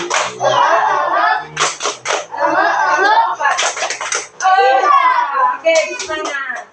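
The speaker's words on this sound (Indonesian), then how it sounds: "1, 2, 3. Tepuk semangat." A classroom of children performs a rhythmic spirit clap, with sharp bursts of group clapping falling between their loud chanted voices at close range.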